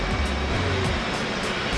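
An F/A-18C Hornet jet engine in DCS World idles steadily after startup, a continuous low roar with a broad airy hiss and faint periodic whine pulses.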